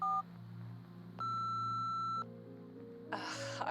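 Phone call going to voicemail in the video game Nobody Wants To Die: a short tone, a pause, then a long sustained electronic beep, followed by a burst of noisy static.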